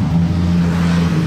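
A Lamborghini Huracán STO engine roars steadily at close range, a deep, aggressive rumble with no voices.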